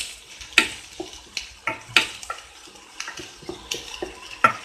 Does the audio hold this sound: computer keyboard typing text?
no